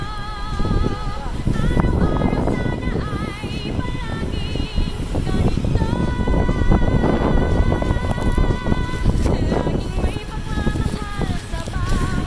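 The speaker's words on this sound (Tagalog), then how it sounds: "Medyo lakas ng hangin." Strong wind roars steadily against the microphone in a dense, continuous rumble, with faint wavering tones drifting above it.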